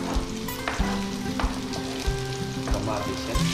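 Onions and garlic fry in a hot pan, giving a steady dense sizzle with periodic louder crackles and scrapes of stirring, close and alone without any talk.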